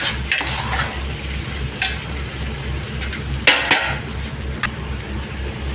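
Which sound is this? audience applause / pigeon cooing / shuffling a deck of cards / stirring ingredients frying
stirring ingredients frying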